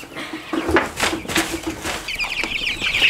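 Chickens cluck and squawk repeatedly at close range as they are moved out of a brooder into a crate, a busy, agitated flock with some high-pitched peeps.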